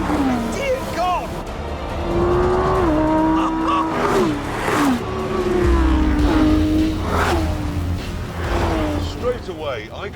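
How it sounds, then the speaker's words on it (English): A race car with a non-turbo 4-litre flat-six engine accelerates hard, its loud engine note climbing in rising sweeps and dropping briefly at gear changes, with someone talking over it. "There's no turbocharging, it's just a 4-litre flat 6"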